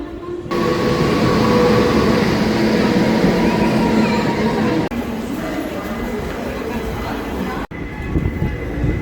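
Loud, continuous rumble of a Dadar–Pandharpur special passenger train in motion, heard from close by, with rattling and clatter; the sound shifts a couple of times along the way.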